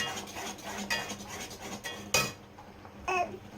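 A thickened Bombay halwa mixture is stirred in a pan with a utensil, giving scraping, clinking strokes against the metal, fairly close and moderately loud, with no talking.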